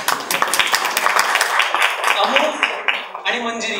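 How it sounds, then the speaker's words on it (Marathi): An audience at a film music launch event claps loudly and rapidly, dense applause with a voice over it near the end. "जोरदार टाळ्या वाजवा आणि फिल्मचं कौतुक करा"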